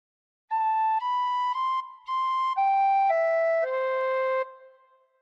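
A tin whistle plays a slow phrase of the Star Spangled Banner, about nine sustained, clear notes stepping up and then down in pitch, gently blown with short breaks, alone and close.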